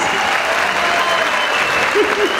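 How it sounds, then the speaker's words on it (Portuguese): An audience applauds steadily after a performer's comedic monologue at a cosplay contest, with dense, even clapping and faint voices mixed in. "Palmas!"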